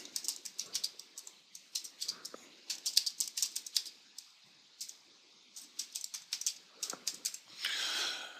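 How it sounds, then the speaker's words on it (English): Fast, uneven typing on a computer keyboard, close and fairly quiet, with bursts of crisp key clicks broken by short pauses and a soft rustle at the end. "So, I type in whatever I want to put in here."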